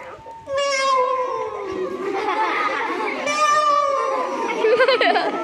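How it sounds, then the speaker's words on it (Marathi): A cat gives two long, wavering meows with changing pitch. They are loud and close, and children's chatter and other voices run through the background. "मांजरीचा आवाज बघा कसा असतो."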